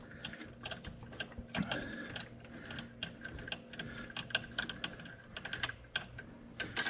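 Clicking ratchet-like mechanical ticks from a Yamaha YXZ CrawlBox assembly being snugged up by hand, a steady run of small close clicks and taps with no talk.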